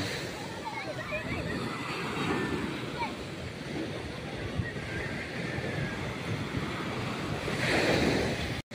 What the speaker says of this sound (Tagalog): Kaya alon!